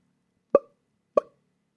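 Two punchy vocal kick-drum imitations from a beatboxer's mouth, evenly spaced about half a second apart, close and dry against silence.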